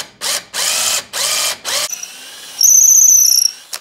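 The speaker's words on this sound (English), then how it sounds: "And this is hickory. It's drilling really, really hard." A drill bores a hole in a hickory wood handle in four loud bursts with short pauses, then a quieter whirring and a steady high-pitched whine near the end.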